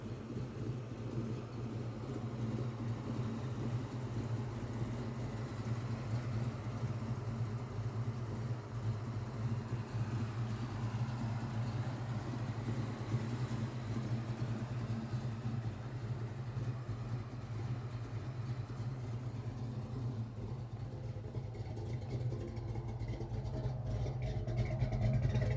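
A 1965 Chevrolet Nova's engine runs at a steady idle, a low, even rumble close by that continues unbroken with no talk over it.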